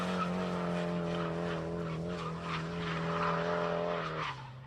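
Drift cars at a drift nationals event spin donuts side by side with doors open, a loud continuous engine drone layered with sustained tire skidding and squeal, steady throughout before easing slightly near the end.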